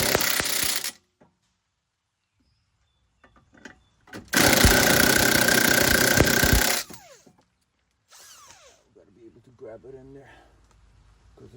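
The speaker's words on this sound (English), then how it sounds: "Just gently secure it with the torque gun" An impact torque gun gently snugs an 18 mm control arm bolt during a front upper control arm replacement on a Dodge Charger, one loud sustained burst of about two and a half seconds after a short earlier whir, with movement and clatter around it.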